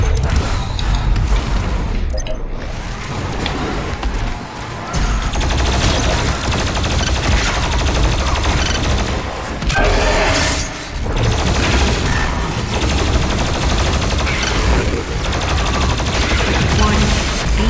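Continuous, heavy gunfire and booming blasts in the DOOM Eternal game as the BFG 10,000 fires, a dense, loud barrage of rapid shots and crashes lasting throughout with few pauses.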